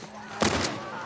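A single sharp gunshot in The Last of Us Part 1, one loud crack with a short echoing tail rising over quiet game ambience.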